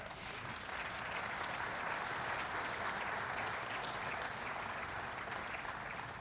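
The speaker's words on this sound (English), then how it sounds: "we all deserve a round of applause for that" Faint, steady applause from a crowd at a ceremony celebrating the topping off of the SolarCity GigaFactory, even clapping continuing throughout at some distance.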